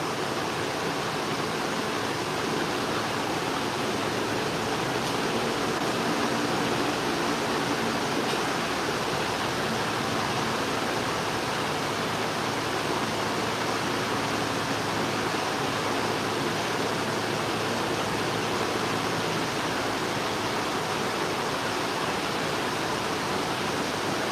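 A dry wheel sharpener runs while sewing scissors are ground against it, giving a steady, loud, unbroken hiss and whir that holds at an even level from start to finish.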